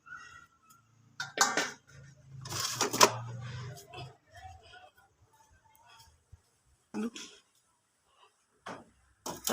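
Clattering dishes being picked up and moved, in short bursts of clinks and knocks with quiet pauses between them.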